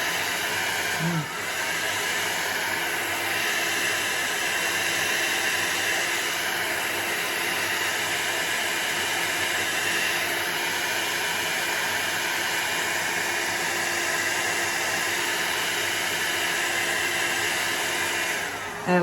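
A heat tool blowing air on a low setting, run with a speed-control foot pedal, gives a steady close whooshing hiss that holds nearly unchanged from start to finish.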